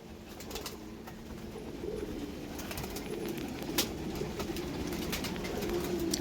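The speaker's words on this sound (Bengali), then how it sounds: "সব পায়রা বেরাচ্ছে" Pigeons released from their loft on a sunny morning, with soft cooing and bird calls over steady outdoor ambience, a few sharp chirps and wing flutters breaking through at moderate distance.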